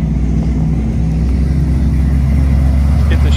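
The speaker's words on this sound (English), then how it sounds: "Get the Chevy truck going away." A Chevy truck pulls away at a classic car and custom show, a steady, loud low engine rumble that holds throughout with faint background voices.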